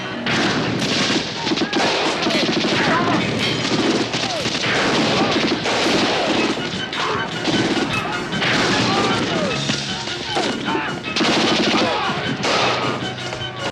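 Gunfire shootout from the action movie Lone Wolf McQuade: dense, continuous bursts of gun and machine-gun fire with crashes and impacts, loud throughout, mixed with shouting and movie soundtrack.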